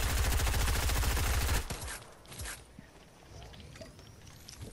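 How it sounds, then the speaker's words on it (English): Rapid burst of automatic gunfire in a shooter video game, loud and close for about a second and a half, then dying away into quieter game ambience with scattered faint shots. "Oh, I didn't mean to shoot that."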